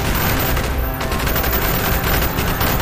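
Dense, continuous gunfire from several weapons fills a street battle in Call of Duty Black Ops, loud and close, overlapping shots forming an unbroken barrage with no pause.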